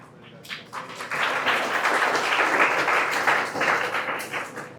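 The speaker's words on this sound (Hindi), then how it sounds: "जोरदार तालियां मुबारक वाड़कर के लिए" A school audience at a farewell program claps for an honoured guest, a loud, close burst that builds quickly, holds steady for several seconds and begins to thin toward the end.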